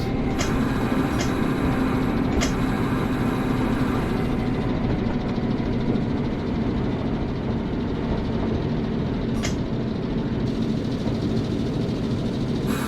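A Wayside Works NS600 diesel shunter locomotive in Train Simulator Classic runs its engine with a steady, dense, low idling drone, heard from the cab, with a few light clicks on top.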